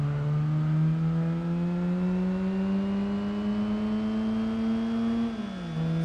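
Engine of a Nissan Cube with a CVT accelerating in Gran Turismo 4, a steady droning whine that climbs slowly in pitch for several seconds, then drops briefly near the end, loud and continuous with no talk.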